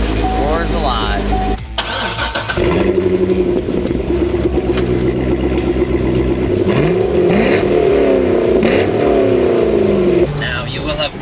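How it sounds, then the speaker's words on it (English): A Corvette's engine catches after a push-button start and roars loudly, then revs up and down in repeated rising and falling surges before settling, up close and dominating the clip. "Press the push start button. Roars alive."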